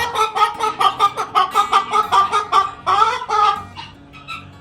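Close-up chickens clucking in a quick, rhythmic series of short calls, one after another, then tapering into softer scattered clucks.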